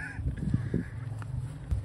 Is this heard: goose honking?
yes